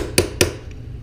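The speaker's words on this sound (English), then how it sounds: "just get yourself a punch, or chisel here, and just kind of hammer it open a little bit" Two sharp metallic hammer strikes on a punch against a flare nut, about a quarter second apart, ringing briefly, followed by quiet.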